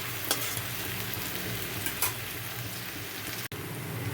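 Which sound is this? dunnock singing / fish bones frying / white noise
fish bones frying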